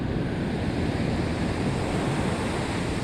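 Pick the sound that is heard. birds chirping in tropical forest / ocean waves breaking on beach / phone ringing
ocean waves breaking on beach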